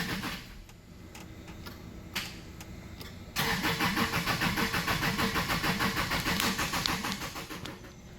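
A budget Subaru Legacy rally project car cranks on a low fuel supply. Faint clicks come first, then a loud, steady rhythmic whirring crank of the starter and engine for several seconds, close by, with no speech.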